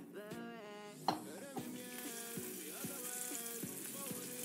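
Spiced cobia fillet laid spice side down into a hot oiled pan, giving a steady sizzle with clinks of pan and utensil and a sharp contact near the start, while a voice talks over it.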